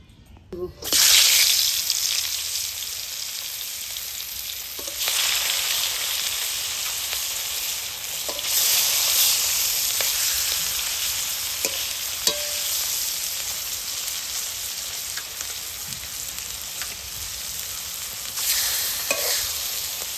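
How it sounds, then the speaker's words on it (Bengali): Pangas fish, coated in salt and turmeric, fries in hot mustard oil in a karahi, giving a steady, close sizzle that runs throughout with occasional stirring clinks and brief bursts of louder spitting. "তো ওদিকে মাছ ভাজা হতে থাক"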